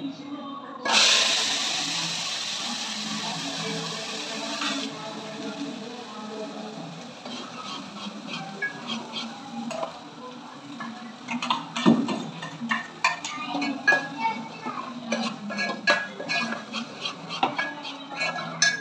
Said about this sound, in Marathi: चला आधी भाजी टाकून घेते